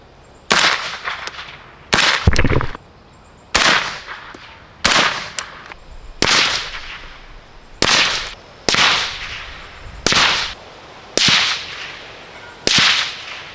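Single rifle shots from a Romulus 5.56 fired at an outdoor range, about ten sharp loud cracks spaced roughly a second apart, each with a short echoing decay.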